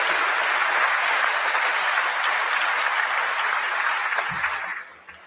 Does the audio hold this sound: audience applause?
yes